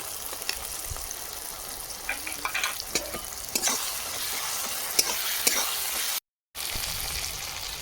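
Garlic and ginger paste frying with softened onion and tomato in a pan, a constant close sizzle with intermittent stirring scrapes and a brief dropout near the end.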